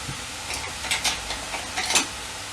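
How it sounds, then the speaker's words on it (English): Fried bean sprouts being stirred in a hot pan with salt, sugar and soy sauce, gentle sizzling under several scraping stirs of a utensil, close and without talk. "Add the salt, sugar, soy sauce, and fine, and continue stirring."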